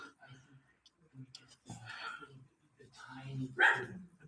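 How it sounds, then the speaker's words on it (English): A household dog barking from another room, muffled yelps and barks mixed with nearby talking indoors. "you might hear my dog barking from the other room."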